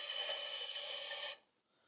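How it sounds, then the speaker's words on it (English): A dial gauge pin scrapes steadily against a turning brake rotor on a Toyota 4Runner, a close, bright rasping hiss lasting over a second before stopping abruptly. "That noise is obviously the pin on the gauge"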